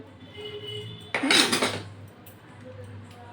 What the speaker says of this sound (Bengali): এই যে আমি কড়াই বসিয়ে দিলাম